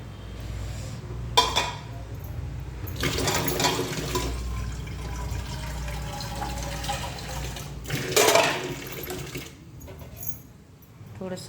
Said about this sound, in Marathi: थोडंसं पाणी घालूया त्याच्यात.